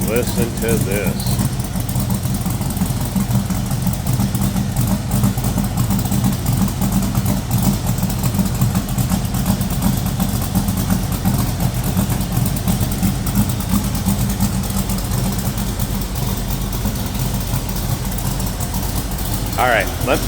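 A 1965 Ford Mustang restomod coupe idling, a steady low engine rumble that holds evenly throughout at close range with no revving.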